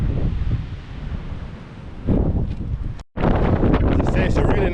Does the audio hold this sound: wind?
yes